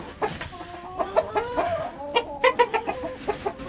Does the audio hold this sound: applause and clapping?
no